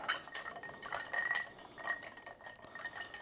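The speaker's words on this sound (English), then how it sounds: "I'm gonna stir." An old fashioned made with rye whiskey is stirred in a glass, giving soft, quiet, irregular clinks and taps close by.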